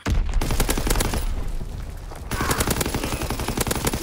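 Loud automatic gunfire in a World War II shooter game during ranked online play, a fast rattling burst, a short gap, then another sustained burst of rapid shots.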